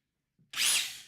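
A power drill whirs up sharply after a faint click, a loud, close, high-pitched motor spin lasting about half a second as it runs, beginning work on an ASMR ears microphone build.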